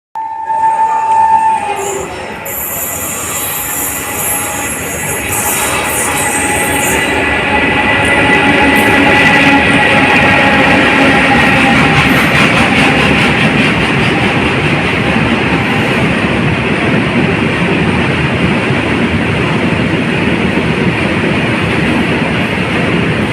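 An oil tanker rake freight train hauled by a WAG 7 electric locomotive rolls past at a railway junction with a loud, sustained rumble and clatter of wagons, preceded by a short horn blast at the start.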